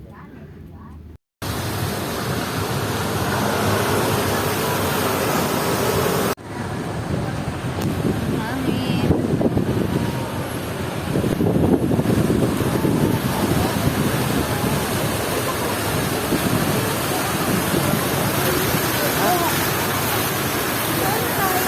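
Evening wind rushes past while walking outdoors in BGC, Taguig, a steady broadband whoosh with heavy microphone buffeting after a brief cutout at the start, gusting stronger midway and continuing throughout.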